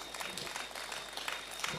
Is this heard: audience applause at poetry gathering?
yes